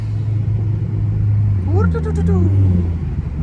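A car engine rumbles deep and steady at close range, with a person's excited voice briefly rising over it.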